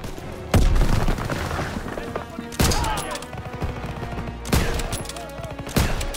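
Gunfire in the World War II shooter Call of Duty WW2, with several loud, sharp bursts of shots separated by sustained rattling echo and battlefield noise, close and dominant throughout.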